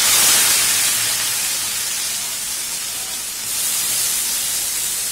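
Bitter gourd, potato and onion frying in a pan on a home stove, giving a steady loud sizzling hiss throughout with a slight dip partway before it swells again.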